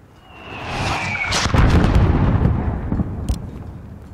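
Mortar fire in Call of Duty: Modern Warfare, a rising whistle that gives way to a heavy rumbling blast, with further sharp cracks and thuds rolling off as the boom fades.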